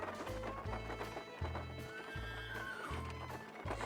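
Horses pulling a stagecoach over dirt streets, hooves clip-clopping in a steady, regular rhythm of repeated beats, with a whinny and faint background noise.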